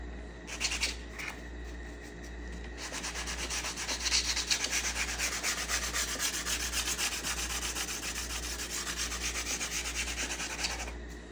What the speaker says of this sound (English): Now we're going to sand them smooth with the different grades of sandpaper